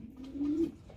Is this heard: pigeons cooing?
yes